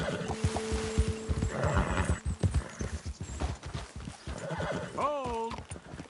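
Horses in Red Dead Redemption 2 clop on hooves close by with heavy movement and snorting, then one lets out a loud, wavering whinny near the end; a voice talks faintly underneath.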